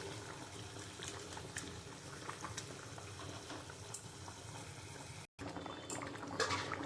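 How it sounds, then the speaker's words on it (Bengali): Lentil dal with fish heads bubbling in a pot, a steady close simmering hiss that runs unbroken apart from a brief gap, with light clinks near the end. "আমার ডালটা ফুটে গেছে।"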